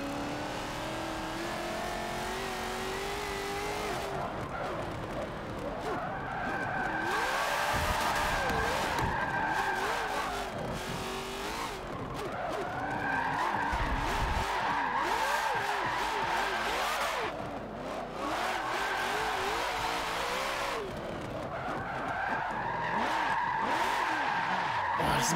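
A car drifting in Forza Motorsport 7, with long tire squeals and skidding over a revving, roaring engine that rises and falls through repeated slides, loud and continuous.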